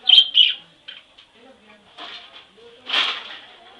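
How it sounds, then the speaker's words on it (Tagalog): A few short, high bird chirps sound close by at the start, followed by quieter rustling and one more brief burst of chirping. "Ayun, ang isang ibon."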